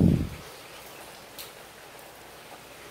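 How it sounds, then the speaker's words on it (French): Rain falls on a roofless outdoor bathroom at a bungalow on Phu Quoc, a soft, steady hiss of drops with a brief louder thump at the start. "Bon là il pleut donc du coup ça fait c'est un peu dommage"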